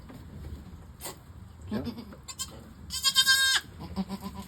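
A goat kid bleats on a farm with a few short, wavering cries that get louder toward the middle. People talk quietly around it.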